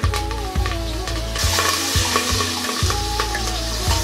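Green chillies, cumin seeds, asafoetida and curry leaves sizzle and crackle in hot oil in a pan, a loud close frying hiss with occasional stirring clatter and no talking.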